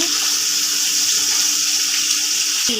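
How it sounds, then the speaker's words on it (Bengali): Cooking oil pours into a pan for frying marinated hilsa fish, a steady, loud, close rushing hiss that holds evenly throughout. "এখন তেল দিব তেল দিয়ে ভাজব তেল দিচ্ছি দিচ্ছি"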